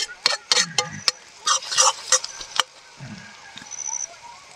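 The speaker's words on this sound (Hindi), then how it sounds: "तो ये दोस्तों अपना प्याज भी भुन चुका है।" Onions frying in a pan at a rain-damp forest campsite in Uttarakhand, a few scattered scrapes and taps of a utensil over a soft sizzle, close by, with quiet outdoor ambience between.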